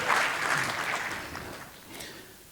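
Audience at a river fundraiser gala claps for donors, a dense burst of applause that swells at once and then gradually thins out, with no talking over it.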